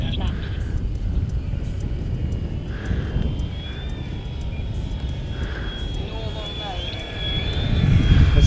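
Several large RC Draco bush planes fly together in formation on a runway outing, their steady propeller engine drone carrying throughout at moderate distance and swelling louder near the end, with faint whining tones overhead.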